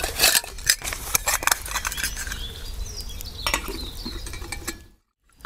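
A metal lid being worked loose and lifted off a honey stove, giving scraping, clinking metallic rattles and short knocks up close, ending in sudden quiet.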